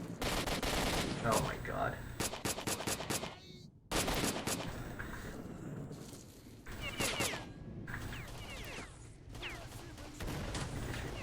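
Automatic rifle gunfire in the shooter game S.T.A.L.K.E.R.: Shadows of Chernobyl, with loud rapid bursts repeating through much of the clip and a brief pause, while a player exclaims over the shooting.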